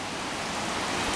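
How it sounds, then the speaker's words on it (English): Steady rain shower on a Saturday afternoon in October, a dense even hiss of drops falling on surfaces, constant and moderately loud throughout with no breaks. "The rain just showed up. Pretty good shower."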